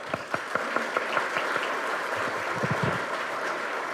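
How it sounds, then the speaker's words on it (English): Applause at a charity awards luncheon, a room of guests clapping steadily for a few seconds with some distinct sharp claps standing out, no talk over it. "A round of applause for Wayne."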